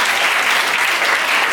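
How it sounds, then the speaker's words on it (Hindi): An audience at a comic poetry gathering claps in unison, a brief burst of loud, dense applause close to the listener that fills the whole moment. "एक बार तालियां बजा के जश्न कर दो।"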